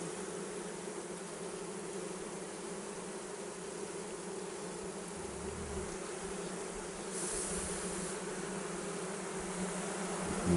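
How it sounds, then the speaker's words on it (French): Large black honeybees buzz around an open Layens hive in a natural-built apiary, a continuous dense drone of many wings, steady and fairly close, with no voices. "elles sont relativement grosses les abeilles, hein. C'est des grosses abeilles noires."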